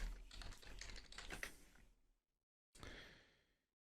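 Close, quiet clatter of fingers on a computer keyboard entering a search. A quick burst of keystrokes runs for about two seconds, then a short pause and a final brief flurry.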